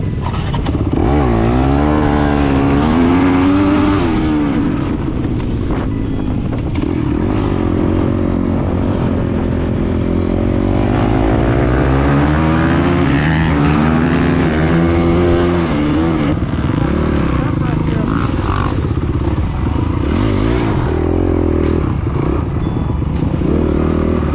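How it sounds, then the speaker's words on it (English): A Honda dirt bike engine at a woods race roars loud and close throughout, its pitch rising and falling as the rider revs and shifts, with scattered clatter from the bike over the terrain. "One big change for me is I'm actually riding my Honda today."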